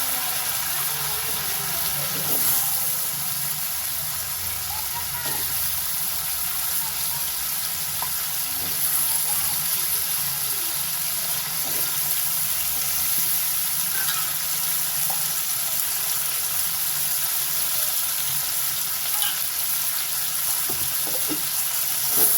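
Potatoes fry in hot oil for a prawn curry, giving a steady broad sizzle with occasional soft crackles and faint utensil clicks, continuous and close.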